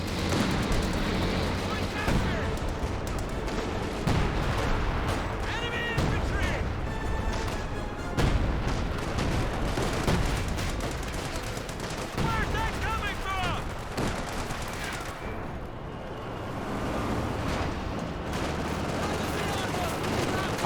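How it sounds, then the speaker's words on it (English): Artillery barrage in Company of Heroes 2, a dense wall of game explosions and gunfire blasts that stays loud throughout, overlapping booms and crackling shots with commentary talk over the top. "We do now have a major artillery barrage being brought on in."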